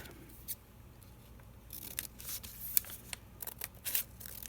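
Scissors snip off a small piece of a paper belly band for a journal page, producing faint, quiet crisp cuts and rustling over soft background hiss, with no talk.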